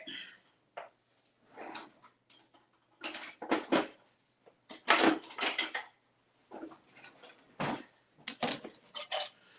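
Vegetables being washed and cut in half in a home kitchen, with intermittent clinks of dishes and utensils, knocks of a knife on a wooden board and brief bursts of running water, separated by short quiet gaps.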